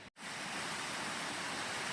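A small unnamed waterfall splashes over rocks just off a hiking trail in Jones Gap State Park, South Carolina, a steady, close, broadband rush of falling water after a brief instant of silence at the start.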